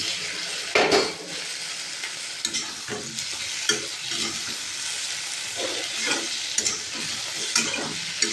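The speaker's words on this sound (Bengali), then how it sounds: "এবার আমি কচু বেগুনগুলো ভালো করে ভেজে নেব।" Taro and eggplant pieces fry in hot oil, a steady broadband sizzle punctuated by repeated stirring scrapes and clinks of a utensil against the pan, close and continuous with no voices.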